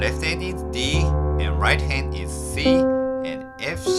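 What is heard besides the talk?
No everyday noise stands out behind the speech.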